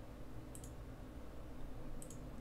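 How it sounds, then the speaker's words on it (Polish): Mouse clicks in the Blender node editor: two quick pairs of soft, close clicks about a second and a half apart against a low, steady background hum. "Tak klikam troszeczkę jakby nie tłumacząc tego"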